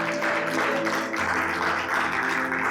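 A church congregation applauds, a steady wash of clapping from many hands spreading through the hall over sustained background music.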